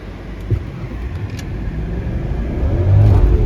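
A 2001 Audi S8 with a V8 accelerates at full throttle, heard from inside as a rising engine drone that swells louder toward the end.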